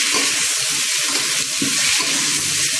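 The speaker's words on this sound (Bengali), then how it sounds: "ভালো করে নাড়ানো হচ্ছে" Mutton curry sizzling and frying in a pan while being stirred, a steady loud hiss with soft scraping stirs throughout, no voices.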